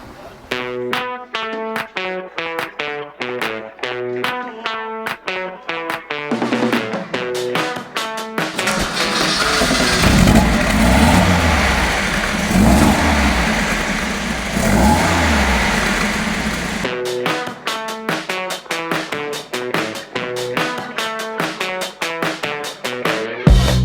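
Alfa Romeo Spider engine revving under way, a loud mid-pitched roar swelling through the middle of the drive, framed before and after by a rhythmic musical pattern.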